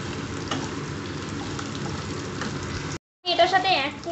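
Ginger garlic paste frying in a pan for chilli chicken gives a steady broadband sizzle for about three seconds, then a brief gap before a louder burst of sizzling with a voice over it.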